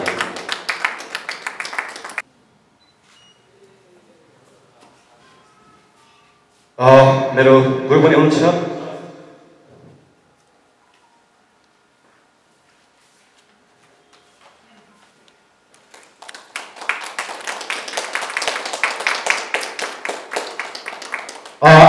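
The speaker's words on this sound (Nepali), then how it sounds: "जोरदार ताली" An audience at a Nepali debate competition applauds in bursts at the opening and again near the end, with a short stretch of someone speaking into a microphone between quiet pauses.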